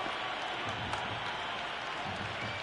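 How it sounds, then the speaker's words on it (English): A crowd at a Cricket 26 video-game match gives off a faint, steady wash of cheering and applause, distant and even throughout, with no clear peaks. "It's evident and ever so audible that the crowd is at near bursting point at today's play."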